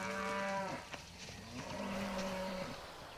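Cattle low in two long, drawn-out moos, the first fading out and the second following after a short pause, close and clear against quiet farm air, used as an audiobook sound effect.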